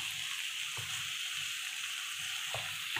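Half-cooked chicken sizzles in a frying pan for chicken curry, a steady hiss with a few soft stirring scrapes and clunks, heard up close with no voices.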